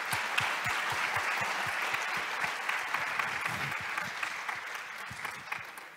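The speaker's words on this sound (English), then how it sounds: "I think you both deserve a warm applause at this stage." Warm audience applause at a talk on self-representation and leadership, a steady dense patter of many hands clapping close by throughout, with no speech over it.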